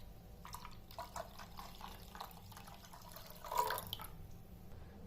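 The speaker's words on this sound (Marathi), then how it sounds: "यामध्ये टाकते मी 2 कप थंड पाणी" Two cups of cold water are poured into a bowl of green chutney, giving a faint, close trickle and a few soft drips in a quiet kitchen.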